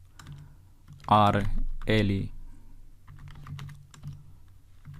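Soft, rapid clicks of typing on a computer keyboard sit under a brief spoken phrase, then continue as quiet scattered taps.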